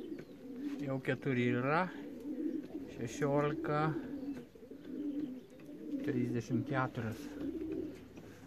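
Racing pigeons just home from a 561 km race from Sieradz coo in low, repeated phrases close by, while someone talks over them on and off.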